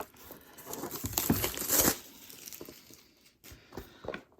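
Plastic packaging and a board game box for Storm Over Dien Bien Phu by Multi-Man Publishing crinkle and rustle up close as the box is opened, in irregular bursts with a louder stretch in the middle and brief pauses.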